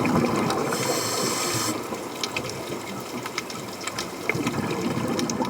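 Muffled, gurgling underwater wash of moving water, a continuous dense bubbling murmur with a brighter hiss in the opening seconds and scattered small clicks and pops throughout.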